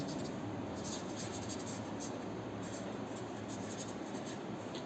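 Steady scratching of a pen writing out a long physics definition, continuous and faint under a constant hiss, with no voice.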